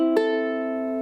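A ukulele tuned to pitch rings out as open strings are strummed once, a short bright chord sustaining and slowly fading, alone and fairly quiet.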